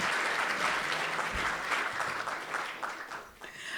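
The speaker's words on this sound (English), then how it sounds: "one more round of applause for Mr. Robert Mack." Audience applause at the 2023 Defence Media Awards presentation for Robert Mack, sustained steady clapping from a crowd that tapers slightly near the end.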